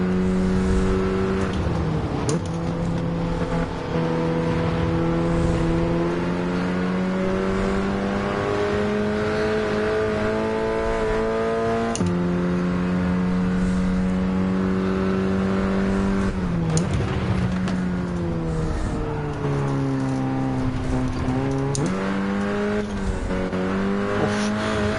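Two V8 race cars, including a Mark 1 Mustang, roar continuously in Gran Turismo 7 at Spa, engines rising and falling in pitch through gear changes, loud and close with no talk.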